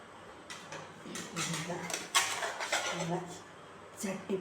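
Chattipathiri, a layered Malabar pastry, being shifted from its cooking pan onto a plate in a home kitchen, giving scattered light clinks and scrapes of metal utensils and dishes, fairly faint and close.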